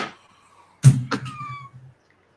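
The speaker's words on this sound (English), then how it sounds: "Oh, I heard a meow." A cat gives a short, close meow with a rising tone, followed by a second brief vocalization, in an otherwise quiet room.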